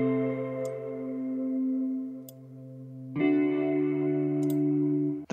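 Guitar run through a filter effect, EQ with lows cut and highs lifted, and other effects processing, playing sustained chords alone with a clear change partway through and a brief burst at the end.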